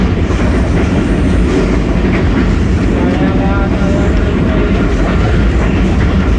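A passenger train runs through Kharian with a loud, steady rumble and a continuous rattle of wheels on track, heard up close for several seconds.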